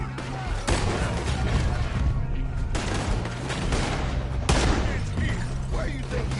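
Video-game shootout with dense, continuous bursts of gunfire and sharp repeated shots layered over a loud, busy background, with a voice speaking briefly amid the shooting.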